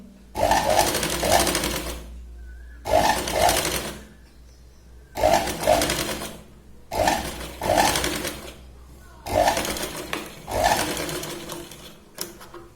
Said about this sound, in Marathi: अर्धा इंच आता आपण इथे शिलाई घेतोय.